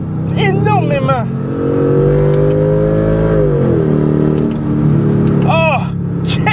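A Mercedes C55 AMG engine in sport mode revs up and holds a steady, loud drone before easing back, while someone talks excitedly over it at the start and again near the end.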